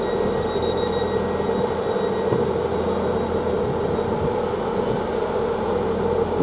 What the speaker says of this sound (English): There's a train just there, just departing, which is the from Norwich to Stansted Airport